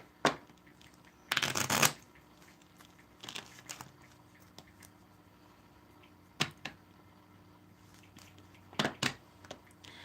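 Tarot cards are shuffled in short, crisp riffling bursts separated by quiet gaps, with one longer loud riffle near the start and a few quick flicks later, close and alone.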